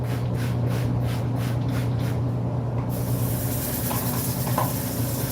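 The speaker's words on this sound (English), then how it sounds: "Spray bottle." A spray bottle mists a bowling alley house ball during resurfacing, with rapid rhythmic pumps of fine hiss in the first half, then a continuous broad spray hiss over a low motor hum.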